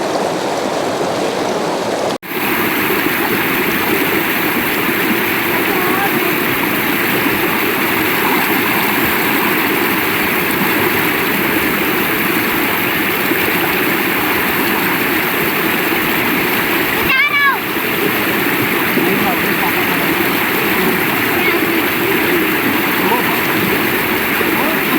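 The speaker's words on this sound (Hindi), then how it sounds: "यहाँ पानी जो है ऊपर से फ्लो कर रहा है ना" A mountain stream tumbling down a waterfall near Mirik, on the drive from Siliguri, gives a loud, steady rushing roar that fills the whole stretch, with a brief dip early on and a short disturbance partway through.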